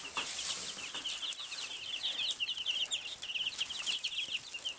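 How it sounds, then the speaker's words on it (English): Dense high-pitched peeping of many young chicks on a small farm, continuous overlapping cheeps close by, with faint rustling and occasional wing flutters underneath. "let's see how the chickies are doing"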